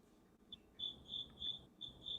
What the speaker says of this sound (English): These crickets, girl, they got to go.